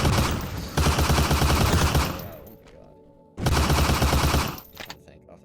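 Two long bursts of rapid automatic AK rifle fire from the Pixel Gun World video game, loud and dense, separated by a brief lull with faint trailing echoes.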